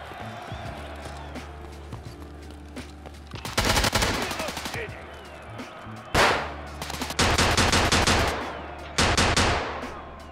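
Rapid automatic gunfire from a rifle in the shooter game Tarkov Arena, coming in several loud bursts separated by quieter stretches of footsteps and movement.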